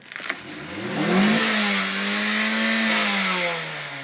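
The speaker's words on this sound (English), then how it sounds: "When you hear the engine going, it's angry." A car engine revs up as the clutch slips, a rising droning whine that holds high and then sags slightly, loud and close, with no talking.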